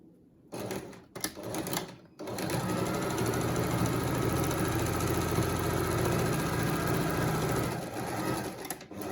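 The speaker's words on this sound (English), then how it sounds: "And top stitch along the edge." A sewing machine top stitches along the edge of a fabric face mask, with a couple of short bursts and then a loud, continuous close run that lasts several seconds.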